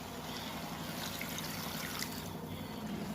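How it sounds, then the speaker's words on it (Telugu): Water trickles and pours steadily into a pot of curry on the stove, about two large glasses' worth, a continuous liquid stream close by with no talk. "కూర అంతా బాగా వేగాక నీళ్ళు పోసుకోవాలి."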